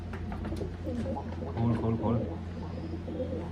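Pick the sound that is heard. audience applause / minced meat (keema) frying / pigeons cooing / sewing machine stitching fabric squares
pigeons cooing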